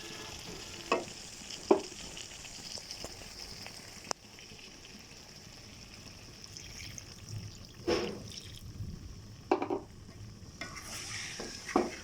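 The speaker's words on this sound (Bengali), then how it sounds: "এবার এর মধ্যে সামান্য পরিমাণে পানি দিয়ে দেবো।" Chicken curry stirred in a pot after a little water is added, giving a low steady simmer with a few distinct scrapes and clinks of the spoon, quiet and close, without speech.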